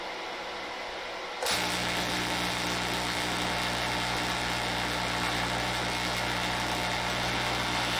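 A plasma arc struck between graphite electrodes set in copper tubing bursts on abruptly after a short quiet start, then holds as a loud, steady buzzing roar with a strong hum and broadband hiss to the end.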